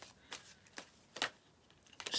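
Tarot cards are shuffled by hand in a few soft, crisp riffling bursts, close and quiet against a hushed room.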